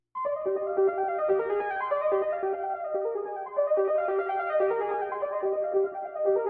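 Melodic sample from an XY Nothing kit, dry and unprocessed, plays a repeating bell-like pattern of plucked tones in a steady rhythm, clear and upfront with no other sounds.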